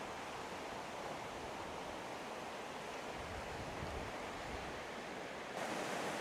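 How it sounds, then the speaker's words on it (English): A rain-swollen stream rushes steadily along a path near Marsden, West Yorkshire, a dense, unbroken roar of water that stays close and even throughout, with no voices. "with us having quite a lot of rain, the sound of the water"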